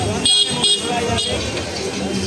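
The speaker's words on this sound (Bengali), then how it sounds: "হর্নের কি অবস্থা" Several car horns honk in busy Kolkata traffic near Chandni Market, a couple of distinct blasts early on, with steady road noise and engine rumble throughout.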